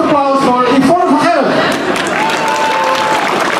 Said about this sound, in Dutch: Grote applaus voor Yvonne van